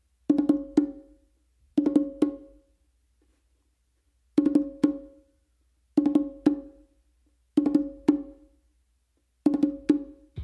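Hand drumming on bongos, with open tones struck on the hembra, the larger drum, by the non-dominant hand. Six short bursts of crisp, ringing strokes come in evenly spaced groups with brief silences between them, close and clear with no talking.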